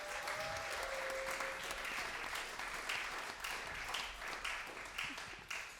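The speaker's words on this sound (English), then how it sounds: "can we give one more huge round of applause to Sara and Jen for putting this whole thing together?" Sustained audience applause at a festival in New York City, dense and steady clapping from a crowd for the event organizers, fairly even throughout with a slight fade near the end.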